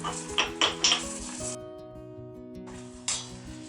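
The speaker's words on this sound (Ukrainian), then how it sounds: "І паралельно помішуємо наше пюре" Spoon knocking and scraping inside a pot of blackcurrant puree, a few sharp clinks in quick succession, then a quiet gap under a low steady hum before one more knock near the end.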